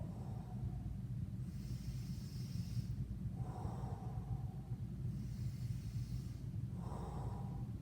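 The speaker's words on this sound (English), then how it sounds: "Inhale, exhale." Slow, deliberate breaths are drawn in and pushed out in a steady alternating rhythm, close and fairly quiet, during a golf mobility warm-up exercise holding a bar with a flat spine and hinged posture.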